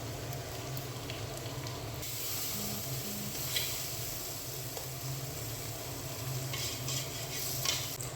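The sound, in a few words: food frying and being stirred in a pan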